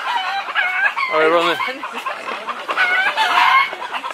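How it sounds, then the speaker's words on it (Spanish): Chickens cluck and a rooster calls from up in a tree, loud and close, with a short spoken remark over the flock. "están todas las gallinas en el árbol"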